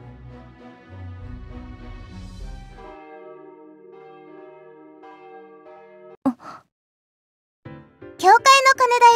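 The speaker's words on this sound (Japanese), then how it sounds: "教会の鐘だよ。" In the video game Death end re;Quest 2, a church bell rings in slow, resonant sustained tones that fade out, followed by a sigh and a character's gasping voice.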